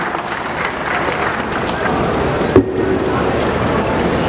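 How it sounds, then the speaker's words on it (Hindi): Steady applause from a large audience greeting a minister onto the stage at a foundation-stone ceremony for an agricultural produce trade building in Rajasthan, loud and continuous with one sharp knock partway through. "मैं आप सभी की तालियों के साथ उन्हें आमंत्रित करना चाहूँगा।"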